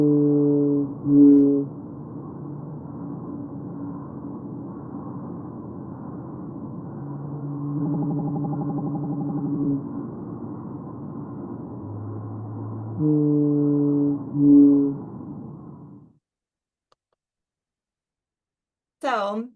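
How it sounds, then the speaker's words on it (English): Blue whale calls picked up by an underwater hydrophone come as long, low, droning moans with layered tones. Several drawn-out calls rise and fall, then fade into near silence before a brief rising chirp at the end. "including blue whales, which sound like this."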